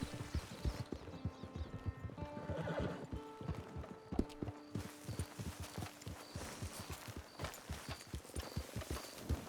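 Horse hooves clip-clop in a steady walking rhythm, close and distinct, with a horse whinnying partway through, in the video game Red Dead Redemption 2 Online.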